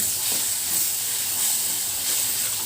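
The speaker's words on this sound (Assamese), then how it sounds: "এতিয়া মই তাত পেষ্ট কৰি লোৱা বিলাহীটো তাত ঢালি দিম, আৰু এতিয়া ভালদৰে উতলিব দিম।" Tomato paste poured into a pan simmers with a loud, steady, hissing bubble. The sound is close and continuous, and nobody speaks.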